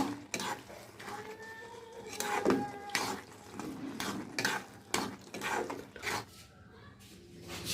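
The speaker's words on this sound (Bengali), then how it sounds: "নেড়ে নেব" Lentil, egg and bottle gourd curry stirred in a pan with chopped coriander, a spoon scraping and clinking against the metal in irregular strokes, close and moderately quiet with some kitchen background noise.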